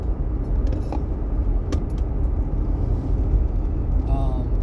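A car rumbles steadily on a morning commute, its low engine and road drone heard from inside the cabin, with a few faint clicks and rattles over the constant hum.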